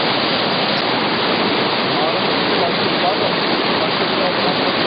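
Karaburun creek in Turkey flows near a hydroelectric plant construction site, a loud, dense, unbroken rushing of water heard close and steady throughout.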